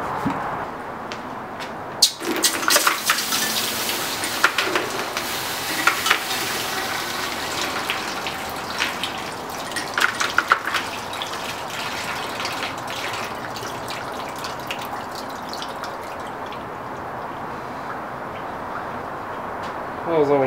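Hot steel main axle for a homemade go-kart plunged into water, giving a sustained hissing, gushing wash with sharp crackling bursts near the start and again midway, close and fairly loud throughout.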